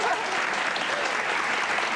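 Studio audience at a television talk show applauds steadily, a dense continuous wash of clapping heard close and full throughout with no break.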